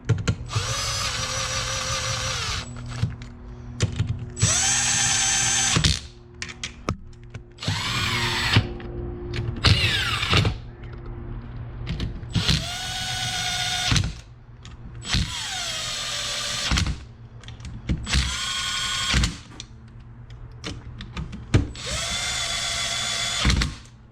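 A power driver running in engine case bolts on an LTZ400 bottom end, repeated whirring bursts of several seconds each separated by short gaps, close and loud, no talking.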